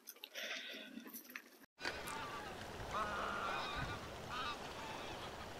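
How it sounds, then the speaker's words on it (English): Several geese honk repeatedly at moderate distance over a steady outdoor background, their calls overlapping in loose bursts after a brief dropout at the start. "We've got a load of new geese coming in."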